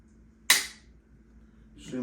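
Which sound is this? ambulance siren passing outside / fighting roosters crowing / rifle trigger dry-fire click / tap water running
rifle trigger dry-fire click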